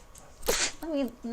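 A single sharp sneeze bursts out, followed immediately by a short voiced sound and a bit of talk.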